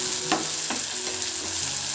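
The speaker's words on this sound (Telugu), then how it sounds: "ఈ పచ్చివాసన పోయేంత వరకు కొంచెం వేయించుకోవాలి." Half a teaspoon of ginger garlic paste frying in a pan for an omelette curry, a bright continuous sizzle with a few quick stirring scrapes and a low steady hum beneath, near and without speech.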